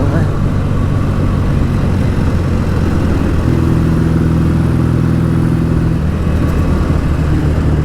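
A BSA A10 650 Super Rocket motorcycle engine drones steadily while being ridden, a close, continuous low rumble with wind noise, its pitch lifting briefly midway as the throttle opens and then settling again.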